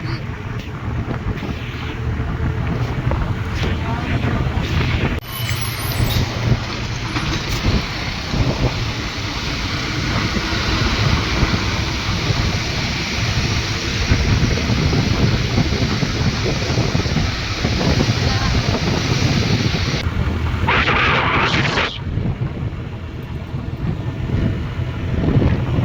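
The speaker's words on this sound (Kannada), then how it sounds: "ಗಾಳಿ ಭಾಳ ಬರತೈತಿ" Strong wind roars steadily and loudly across the microphone outdoors, a constant buffeting rush that continues with no break.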